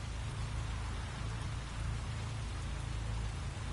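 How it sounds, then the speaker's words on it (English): Steady heavy rain pours onto the ground in the racing game The Crew 2, a dense continuous hiss with a low rumbling undertone, unbroken and fairly loud throughout with no voices. "Look at how the rain hits the ground."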